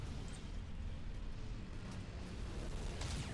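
A Nova Cannon discharges in the space battle game Battlefleet Gothic Armada 2, heard as a sustained, dense rumbling roar that holds steady throughout, with a faint brighter crackle near the end.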